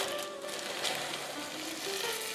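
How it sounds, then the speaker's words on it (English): Chicken orzo soup bubbling in a pot on the stove, a steady close crackling and sizzling hiss that runs through the whole stretch with no talk. "now that this is boiling, I'm just gonna simmer until the orzo's done"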